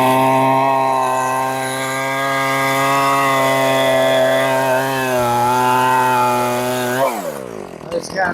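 A Husqvarna 445 chainsaw runs steadily at a loud, close, even pitch for about seven seconds, then the engine note sweeps down as it cuts off, leaving faint noise at dusk.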